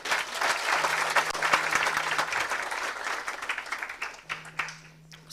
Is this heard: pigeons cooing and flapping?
no